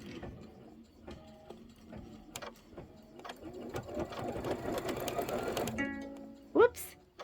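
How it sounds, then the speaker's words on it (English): An embroidery sewing machine runs in short mechanical bursts of rapid stitching, close and moderately loud, with a person talking over parts of it. "you're going to stitch out the word stay."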